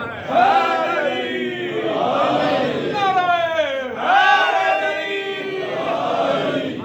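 A crowd at a religious majlis chants a slogan together in loud, sustained, drawn-out unison, two swelling calls rising and falling close by.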